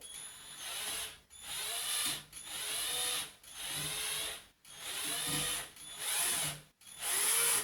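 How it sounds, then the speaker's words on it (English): An electric drill set to reverse untwists electrical wire in six steady bursts, briefly stopping between each run, loud and close with no voices. "So set your drill to untwist, so you can just do that by clicking the button and go nice and slow."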